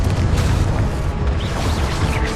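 Confringo blasting spell explosion in Hogwarts Legacy, a dense continuous roaring rumble with crackling bursts, loud and steady throughout without a clear single onset.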